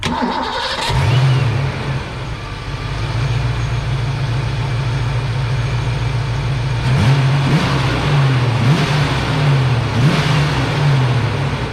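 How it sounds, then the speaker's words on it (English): A Ford Mustang Foxbody car engine idles steadily, then its pitch climbs and revs up in a few surges after a base idle reset, loud and close, with no talking. "if we plug this back in, the car idle is going to shoot up"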